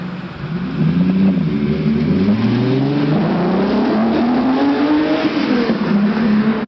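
A De Tomaso Pantera concept car with a Ford V8 drives past, its engine note rising and falling steadily through the whole passage, loud and close, with a hint of tire noise and no talk.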